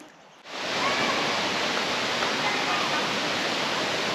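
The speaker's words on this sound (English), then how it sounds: "We've come to the beautiful Mila Mila Falls." Millaa Millaa Falls, a waterfall on the Atherton Tablelands in Queensland, roars as a steady, loud broadband rush that swells in after a brief quieter moment and then holds constant without pause.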